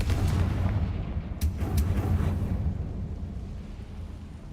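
In the video game Hogwarts Legacy, the Confringo spell goes off with a deep, booming blast and a short crackling burst, the rumble fading away over several seconds.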